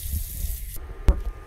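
A water tap runs hot into a container to fill a water bath for dyeing, a steady hissing rush that suddenly cuts off, followed by a single sharp knock and quieter drips and clatter, close up with no speech.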